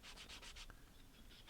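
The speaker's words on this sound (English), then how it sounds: "Just going over with my sanding block again." A sanding block rubs back and forth along the wood edge of an Xbox wireless charger, smoothing a ridge, in five quick, even strokes, then pauses before a few lighter passes; close, soft and raspy, with no voices.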